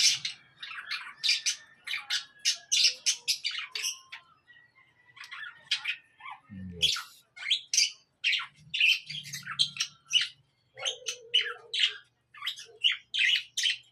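Pet cockatiels and African lovebirds chirp and squawk close by in a stream of sharp, high calls with short gaps, plus a few lower sounds.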